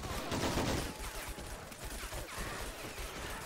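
Dense machine gun fire in the World War II strategy game Men of War: Assault Squad 2, a continuous loud crackling fusillade of overlapping bursts with no pauses.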